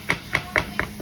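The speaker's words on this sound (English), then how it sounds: "that's when I kind of chop it up with the spatula" A spatula chops frozen food and vegetables in a pan for a French bread pizza, five evenly spaced sharp taps in quick rhythm, close and alone.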